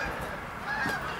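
Geese honking in a passing flock, a steady jumble of calls at a moderate distance, fairly faint and unaccompanied by speech.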